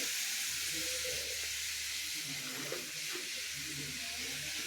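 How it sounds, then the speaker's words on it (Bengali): Cumin, ginger and chili paste sizzle in a pan, a steady soft hiss running throughout with faint low rumbles and brief stirring bumps, fairly quiet. "এই যে আমি জিরা আদা বাটা লঙ্কা বাটা দিয়ে দিচ্ছি।"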